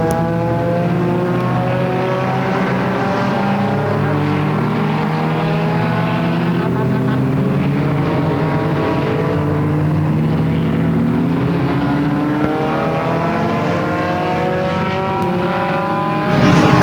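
Multiple race cars drone continuously around the oval at Flamboro Speedway during the Halloween Enduro 100, engines overlapping in a steady, loud roar with shifting pitch as they pass.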